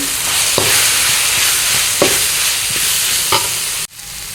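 Masala powders and spices, garam masala and turmeric, fry in a pan for egg rice, giving a steady close sizzle broken by a few sharp scraping stirs before the frying suddenly cuts out near the end.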